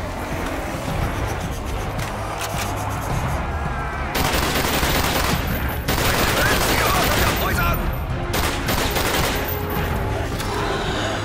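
Loud, dense gunfire from Call of Duty: Black Ops, a near-continuous barrage of shots and explosions with no pause, with a speech-like layer mixed into the din.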